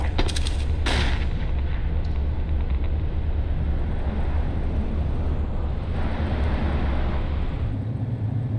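A sharp burst near the start, over dense, loud, continuous rumble and gunfire-like noise, followed by a sustained wash of roaring combat ambience in the Counter-Strike video game.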